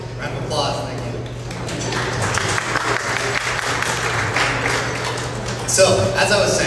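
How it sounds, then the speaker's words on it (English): Audience applause fills a hall during a Boy Scout district speech, a broad steady wash of clapping over a low hum, swelling slightly near the end. "Okay, round of applause"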